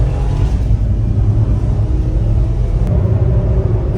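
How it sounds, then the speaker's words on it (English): A Suzuki Kei truck with a 660cc engine drives along rural roads near the Manawatu, its small engine giving a loud, steady low rumble from inside the cab with no talk. "Cruising along the rural outskirts of the Manawatu, heading towards Sanson in your 660cc K truck."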